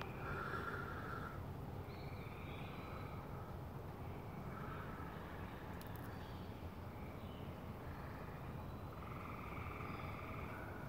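Many toads calling all around a home's deck outdoors, a dense, continuous chorus of overlapping trills and croaks that holds steady and fairly loud throughout, with no talking.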